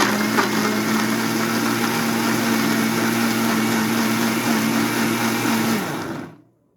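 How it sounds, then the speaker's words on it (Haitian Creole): A kitchen blender runs steadily on a recipe mixture with a strong, even whirring hum, loud and close for about six seconds before cutting off abruptly to silence. "Et puis, je blender, d'accord?"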